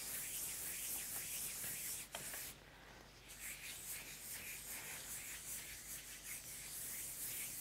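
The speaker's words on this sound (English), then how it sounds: "This is what we call polishing." Fondant on a cake is polished with a continuous soft rubbing and swishing, close and steady, with one brief break partway through.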